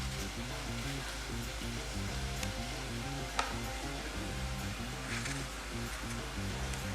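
Onions frying in a pan for a halal shepherd's pie, a continuous soft sizzle beneath a steady low hum, with one brief sharp tap partway through.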